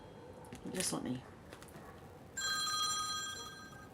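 A phone rings with an incoming call, a steady electronic ringtone starting partway through and continuing loudly to the end, after a brief burst of speech-like noise.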